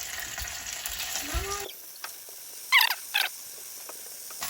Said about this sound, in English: And now I'm gonna get some hot oil. Let's go gnocchi in.